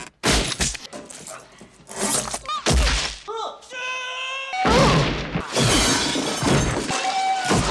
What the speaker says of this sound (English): he shatters the window, triggering the alarm